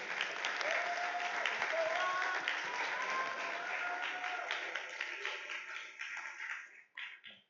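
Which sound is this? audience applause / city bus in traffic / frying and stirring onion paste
audience applause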